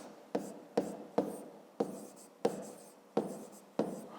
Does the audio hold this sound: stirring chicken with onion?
no